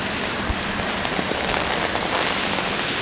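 Heavy rain falls in Halifax, a dense, even hiss of drops striking surfaces, close and constant, with a few louder splats and no talking.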